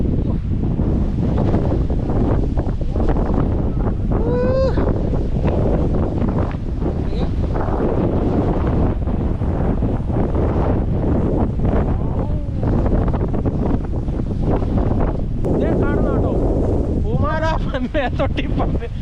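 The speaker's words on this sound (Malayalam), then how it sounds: "കോടയും കാറ്റും എല്ലാം ഒന്നിച്ചാ വരുന്നു" Strong, cold wind sweeps across an open, misty hilltop at Muramkottippara, a steady loud roar buffeting the microphone throughout, with faint voices and brief bird-like chirps occasionally breaking through.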